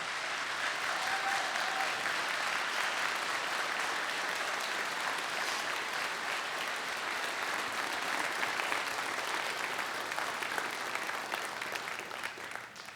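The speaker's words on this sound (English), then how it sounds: "You need to clap loud for me, cadets" Cadets and guests applaud mentors at a military-style commencement ceremony, a broad, continuous roar of many hands clapping at moderate distance that holds steady throughout and thins slightly near the end.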